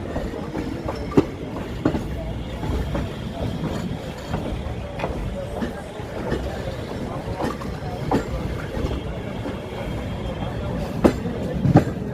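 The 19120 Somnath Ahmedabad Intercity Express runs on the tracks between Rajkot and Ahmedabad, heard from on board as a steady rolling rumble with regular clickety-clack wheel beats and occasional sharper clanks throughout.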